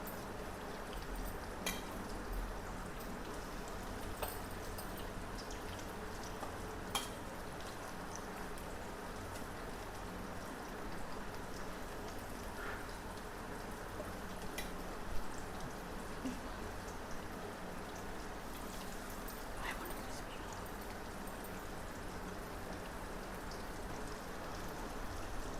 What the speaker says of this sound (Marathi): हे हांवें आतां फ्राय करपाक घातला